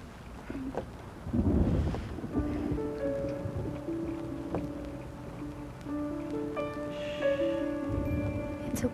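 Thunder rumbles low and heavy through a rainy outdoor scene, with a sustained roll swelling and fading while tonal background sounds hum along.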